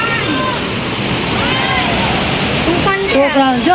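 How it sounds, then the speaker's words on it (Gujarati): Heavy pouring rain in Surat roars as a steady, dense wash of noise, with voices talking over the downpour. "જો સુરતમાં ધોધમાર વરસાદ હાલે છે, જબરદસ્ત"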